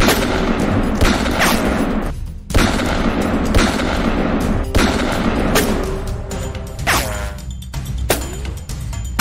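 Rapid game gunfire blasts at a Skibidi Toilet enemy, loud repeated shots and bursts filling the whole stretch with brief sharp impacts and game effects, no voices.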